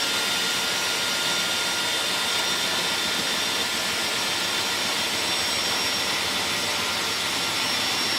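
A steady, high-pitched mechanical whine and roar runs unbroken throughout as a power drill grinds through metal on a Can-Am Maverick X3, loud and close.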